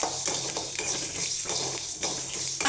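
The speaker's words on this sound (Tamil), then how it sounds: "இந்த அளவு வறுத்துக்கிட்டால் போதும் வாசம் நல்லா வருது" Ingredients for tomato thokku are dry-roasted in a pan, heard as close, rhythmic scraping strokes about twice a second, with a steady rustling sizzle between them.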